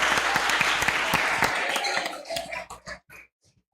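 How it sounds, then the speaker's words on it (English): A short burst of audience applause at a youth conference fades out over about three seconds into a few scattered claps. "Give a round of applause"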